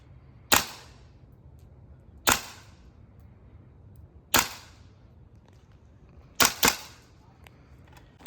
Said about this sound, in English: you can go ahead and shoot your rounds when you're ready